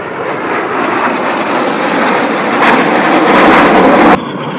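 Red Arrows jets flying a display manoeuvre at Duxford, a loud, steady roar of jet engines swelling toward the end before cutting off abruptly, with a softer wash remaining.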